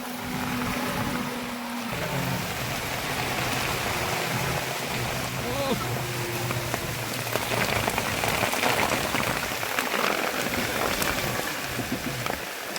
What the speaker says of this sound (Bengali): খুব বেশি বৃষ্টি হইতেছে